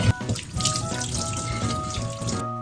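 Fresh burdock root rinsed quickly under a running kitchen tap, water splashing steadily and close for a couple of seconds before cutting off abruptly.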